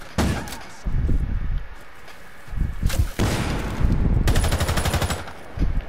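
Video game gunfire from a competitive shooter: several loud, close bursts of automatic fire with sharp single cracks between them, and no voice over the shots.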